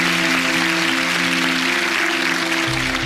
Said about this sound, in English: Why don't you give Lenore a round of applause,